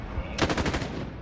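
A rapid burst of automatic gunfire from the video game A Way Out erupts after a brief lull, with close, loud, rattling shots lasting about a second.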